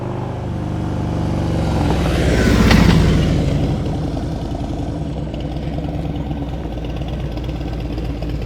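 A motorcycle brakes hard from roughly 25 mph during a slow-speed riding practice session, its engine swelling to a peak and then settling into a steady idle-like rumble, fairly close and without talk.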